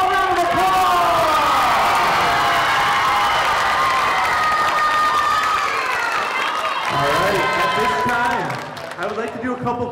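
A school talent-show audience bursts into loud applause, cheering and whoops, many voices shouting over dense clapping, sustained before tapering off near the end.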